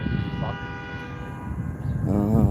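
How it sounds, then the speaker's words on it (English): Horns sound out on a city street during a multiagency ICE raid in East Austin, Texas, a sustained honking tone heard at moderate distance under traffic noise, with voices talking nearby. "More people are honking."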